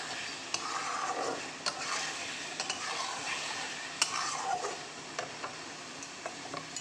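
Egg and potato curry is stirred in spiced oil in a pan, with a continuous soft sizzle broken by repeated spatula scrapes and clicks, close and fairly quiet, with no talking.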